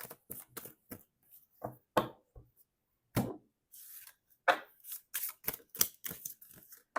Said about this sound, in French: mélanger un peu ces cartes-là